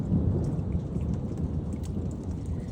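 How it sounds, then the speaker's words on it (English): Steady rain pours outdoors with a low, continuous rumble of thunder underneath, dense and close, with no voices present. "let me know if you guys ever hear thunder and if it's raining where you guys live"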